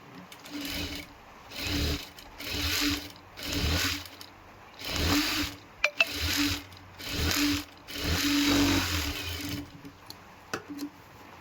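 Sewing machine stitching a princess blouse, running in about seven steady bursts of a second or so each, separated by short pauses, with faint clicks between runs.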